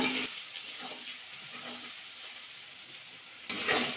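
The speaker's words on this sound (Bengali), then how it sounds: "ডিম গাজরটা ভাজা হয়ে গেছে" Boiled egg and carrot pieces fry in hot oil for vegetable rice, giving a soft continuous sizzle with brief stirring scrapes near the start and a louder burst of sizzling at the end.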